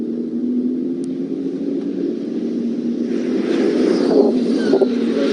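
BMW race cars in orange and blue livery at the Nürburgring endurance race make a steady, somewhat distant engine drone that swells slightly toward the end, with no voices over it.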